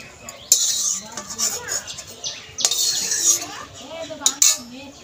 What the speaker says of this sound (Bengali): এখন আমি লঙ্কাগুলো তুলে নিচ্ছি